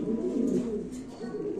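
Exhibition pigeons of the Global Mundian breed coo in low, rolling murmurs at a pigeon market, close by and continuous, with faint background voices.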